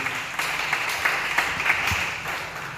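A church congregation applauding, a continuous, steady wash of clapping from many hands with no voices above it.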